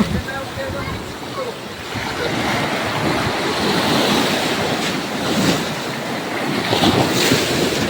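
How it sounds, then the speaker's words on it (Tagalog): Heavy high-tide surf churns and splashes against a house over steady wind noise, with repeated surges of crashing water building and breaking close to the listener. "malakas ang salpok ng alon"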